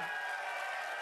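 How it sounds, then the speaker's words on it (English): A live audience at an Xbox event in London applauds, a steady, moderately loud wash of clapping with a faint tonal hum from the hall underneath. "Give her a round of applause."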